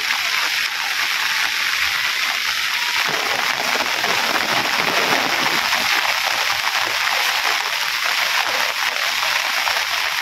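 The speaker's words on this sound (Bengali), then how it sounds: "আবার একটু স্পিডে আইতেছে বৃষ্টি" Heavy rain pours steadily near a riverbank as a dense, continuous hiss that thickens after the first few seconds, close and loud, with no voices over it.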